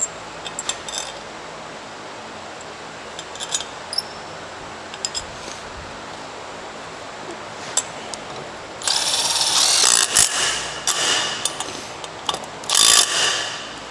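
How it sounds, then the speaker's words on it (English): Bolts being ratcheted back into a CFMOTO U10 UTV clutch assembly during a clutch kit install: scattered faint clicks early, then two loud bursts of rapid ratchet clicking near the end, with no talking. "you're gonna line up the bolt holes, and we're gonna put these bolts back in"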